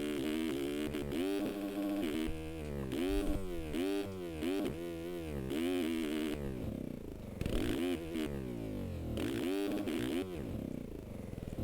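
Dirt bike engine from the MX Simulator racing game, revving hard in second gear through whoops with a buzzing, fluctuating tone that rises and falls in quick surges and holds loud and continuous throughout.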